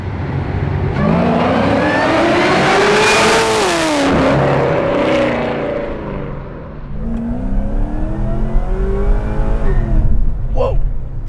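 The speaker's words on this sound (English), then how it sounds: "you got a third gear chirp out of that" A supercharged 650 hp LSA-engined Chevy SS sedan revs hard through the gears, pitch climbing and dropping at each shift, with a brief tire chirp in third gear under loud acceleration.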